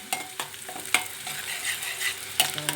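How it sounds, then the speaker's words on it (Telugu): Curry leaves stirred with ridge gourd in a frying pan for a dried prawn curry, a soft steady sizzle broken by several sharp scraping clinks of the spoon against the pan, close up and with no voices. "కరివేపాకు వేసుకొని బాగా ఇవన్నీ బాగా కలుపుకొని"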